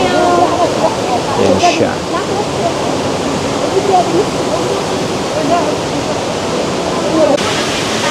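The indoor waterfall at Singapore Changi Airport pours steadily, a loud, constant rushing roar filling the space, with a few brief spoken words over it.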